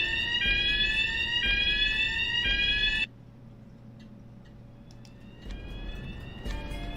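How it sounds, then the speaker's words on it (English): A fire alarm siren in the video game Tokyo Dark blares in loud, harsh repeating electronic pulses, cuts out abruptly partway, then faintly returns under low background noise. "That siren's god awful in a way."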